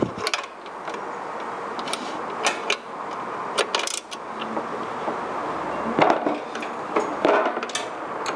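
A box end wrench tightening bolts on a Perry motorcycle roller starter, giving a series of irregular metallic clicks and clanks from the ratcheting tool and steel parts against a quiet background.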